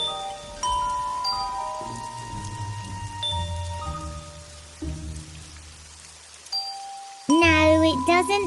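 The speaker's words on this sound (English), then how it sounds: "She needs to ring the melody on bells." A simple melody rung on bells, clear sustained tones stepping one after another, followed at the end by a louder burst of sound.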